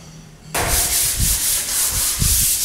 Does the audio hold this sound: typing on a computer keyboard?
no